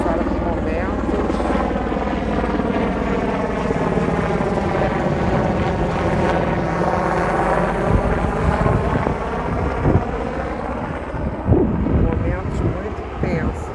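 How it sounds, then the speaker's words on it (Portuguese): A helicopter flies close overhead near an airport, its rotor throb loud and steady with the engine pitch sweeping as it passes, while wind buffets the microphone and a few knocks sound near the end. "a todo momento aí vem o helicóptero trazendo o pessoal"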